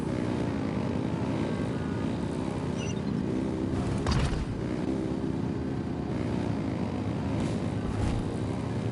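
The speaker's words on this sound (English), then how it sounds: "Rev the engines!" Aircraft engines revving in Genshin Impact, a steady, loud propeller-like drone that holds throughout with a brief swell in the middle, no voices over it.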